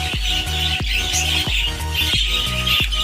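Budgies in breeding cages squawk and chirp continuously, with a dense overlapping chorus of shrill calls and repeated harsh squawks, loud and close, with no talking.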